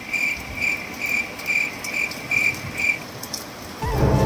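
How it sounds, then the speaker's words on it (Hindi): Rain falling outside as a steady soft wash of patter, with a cricket chirping in regular pulses close by over it, ending with a low rumble. "बारिश हो रही थी और चारों तरफ पानी ही पानी था।"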